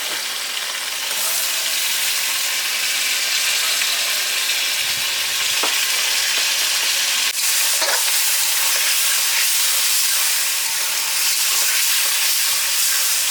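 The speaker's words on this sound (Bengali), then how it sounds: "এই দিয়ে দেবো চিকেন কিমাটা" Chicken mince added to softened onions in a hot pan gives a loud, steady, close-up sizzle and hiss that runs throughout, with occasional stirring scrapes and no talk.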